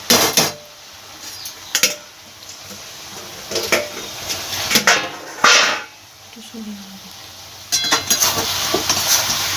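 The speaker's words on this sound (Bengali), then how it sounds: "মিশিয়ে নেব এবার ভালো করে যতক্ষণ না জলটা একটু শুকনো শুকনো হচ্ছে" Shrimp and fried bori lentil dumplings stirred into a cauliflower stem curry in a pan, with intermittent clanks and scrapes of a spoon against metal over a soft sizzle, and a voice talking in between.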